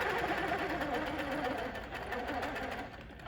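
A sewing machine hums continuously as it stitches fabric along a quilting ruler guide. The motor runs at a steady, close, fairly loud pitch and eases slightly near the end, with no talking.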